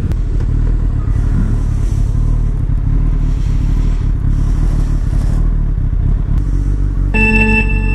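Motorcycle engine and exhaust heard up close while riding through traffic, a steady loud rumble with a rattly, crackling edge throughout and a brief ringing tone near the end.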